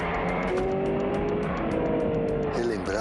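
A Kia Stinger GT drives with a steady engine drone and a rising note near the end, loud and continuous, with faint talk underneath.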